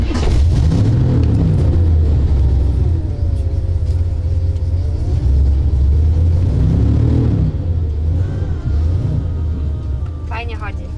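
A deep, rumbling 5.7-litre V8 engine in a Chevrolet van idles and runs steadily up close, a low throb filling the whole stretch, with faint voices underneath.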